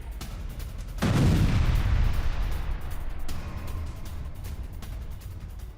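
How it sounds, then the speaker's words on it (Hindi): An air strike on a Hamas rocket launcher site lands as a single heavy explosion, a sudden loud boom followed by a rumbling roar that slowly decays into distant noise. "हमास के ठिकाने पर हुआ है हवाई हमला। रॉकेट लॉन्चर साइट पर गिरा बॉम्ब।"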